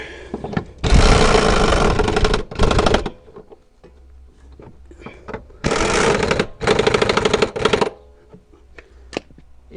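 A power tool tightens the rear upper suspension arm bolts on an Alfa Romeo 166, in two pairs of loud, rattling bursts of a few seconds each, separated by quieter handling clicks.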